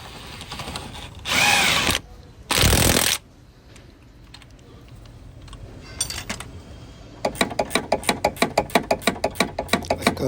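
An impact gun on a Vauxhall Corsa front drop link nut, fitted during a coil spring and shock absorber change, rattles in two short loud bursts close by. Later comes a quick run of metallic ratcheting clicks.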